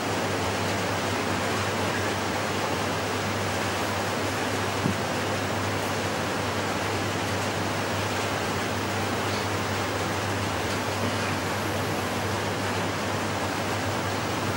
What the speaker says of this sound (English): You can really hear it pouring outside.